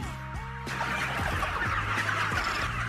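Thousands of chickens on a poultry farm cluck and murmur in a crowded chorus over steady mechanical humming, with a broad rushing noise filling the background.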